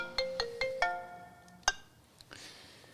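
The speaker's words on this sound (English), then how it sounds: "That could be Andrew Gow's ringing you, Don." A phone ringtone plays a short run of bright, evenly spaced electronic tones, then a higher chirp and a fading tail, clear and close with no talking over it.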